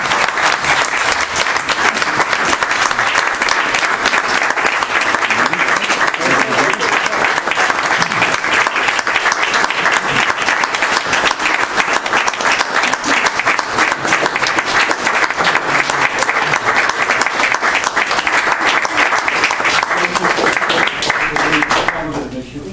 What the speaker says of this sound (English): we truly mean that in terms of an applause for you this evening